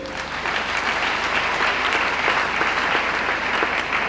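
A crowd at a funeral ceremony for a Christian servant of God in Kinshasa breaks into loud, sustained applause, dense and steady throughout with no pauses.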